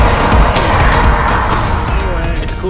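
Tesla Roadster accelerating hard, a loud close rush of road and motor noise with a surging whine, heard from inside the car while people speak over it.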